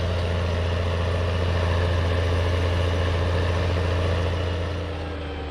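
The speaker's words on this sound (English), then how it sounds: "One thing I have to worry about this tractor here, it does seem to have the horsepower to haul this load of logs up" A simulated tractor engine in Farming Simulator hauls a load of logs, giving a steady, loud, low droning hum with a constant pitch that eases off slightly near the end, with no talking.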